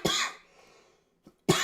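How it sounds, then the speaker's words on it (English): One harsh cough up close, then a brief quiet with a faint breath, and a second cough starts at the end. "Sorry about the cough."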